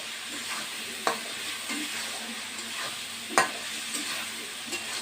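Potatoes stir-frying in a pan for a fish and vegetable dish give a steady close sizzle throughout, with a few sharp utensil scrapes and knocks against the pan.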